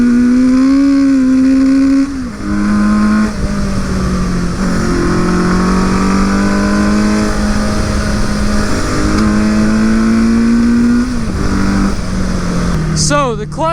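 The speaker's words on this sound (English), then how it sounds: "So the clutch is definitely slipping a little bit" A Suzuki GS850 scrambler motorcycle engine with a slipping clutch drones loudly and close, its revs climbing, dipping and holding in uneven surges, with a brief burst of higher noise at the end.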